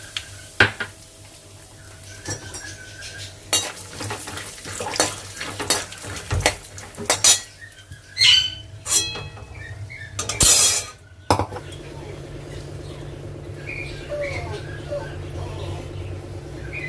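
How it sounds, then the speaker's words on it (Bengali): Peanuts fry in a pan on a gas stove with scraping stirs and clinking utensil knocks, while a low sizzle holds steady throughout; bursts of handling noise and pan clatter come and go, and a voice speaks faintly at moments. "গ্যাসটা অন করলাম, বাদামটা ভেজে নিচ্ছি আমি"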